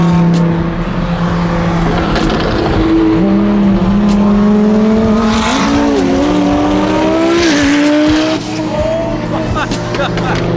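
A twin-turbo car engine revs and pulls hard through repeated rising pitch sweeps, loud and close, with tire noise and someone talking over it.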